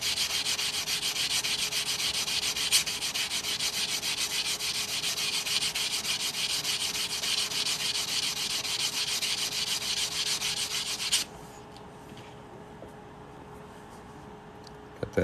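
A coin ring is sanded and smoothed with steady, close abrasive rubbing for about eleven seconds, then the rubbing stops and only a quiet background hum is left, with a faint click near the end.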